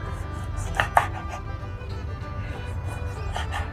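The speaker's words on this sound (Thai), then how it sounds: "มะนาวนะคะ เราใช้หนึ่งลูก เราก็ฝานไว้เลย" A knife slicing a lime in a simple camp-style kitchen, a few soft crisp cuts in irregular rhythm, close and fairly quiet.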